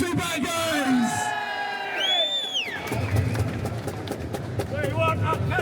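Crowd noise at an outdoor political rally in Glasgow: voices shouting and whooping over a loud, rising cheer, with talk mixed in throughout.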